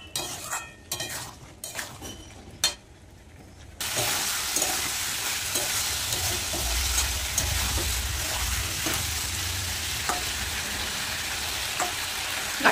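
Potatoes and taro sizzle and fry with spices in a pan, with steady frying noise and occasional stirring scrapes; a few clinks and quieter sounds open the clip before the sizzle rises and holds.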